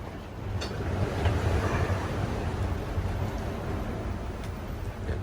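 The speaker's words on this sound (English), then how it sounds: "Seas are building pretty good." Choppy seas and 17 to 20 knot wind at dawn, 30 miles offshore in the Gulf of Alaska aboard a sailboat: a steady roar of wind buffeting the mic over constant washing surf, with no voices.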